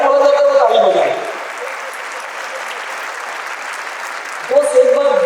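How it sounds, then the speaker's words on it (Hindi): An audience at a motivational talk breaks into sustained clapping, a broad wash of applause lasting several seconds between stretches of amplified speech heard at the start and end. "जो जिनके घर में बोला जाता है वो ताली बजाए"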